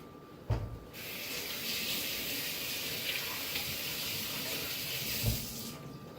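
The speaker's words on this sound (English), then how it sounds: "Just rinse that guy off." A skinless, boneless flounder fillet is rinsed under a running tap, a steady close hiss of water with a couple of brief splashes and clunks as the fish is handled.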